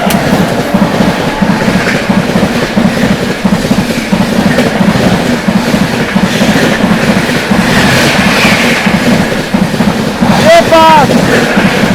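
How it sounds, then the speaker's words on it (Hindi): A New Delhi Rajdhani Express rushes past at full speed, a loud continuous roar of wheels and wind with rhythmic clickety-clack, steady throughout, with a brief voice speaking near the end. "नई दिल्ली राजधानी एक्सप्रेस भाई पूरी रफ्तार में आ रही है।"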